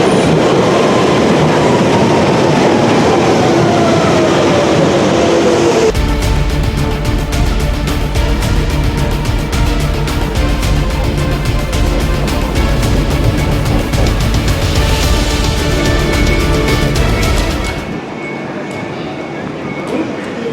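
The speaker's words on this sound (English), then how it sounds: "waiting for a Central Line service to take us to Ely Broadway" A London Underground Central Line train at Shepherd's Bush starts with a rising whine. Then comes a loud, sustained rumble of wheels and carriages rattling close by, which cuts off sharply and leaves a quieter hum.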